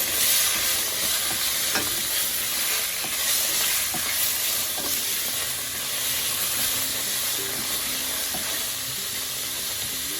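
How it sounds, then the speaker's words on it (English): Chopped tomatoes frying with onions in a pan, giving a loud, steady, continuous hiss and sizzle with occasional soft stirring knocks. "Now to this, I'm going to add my chopped tomatoes."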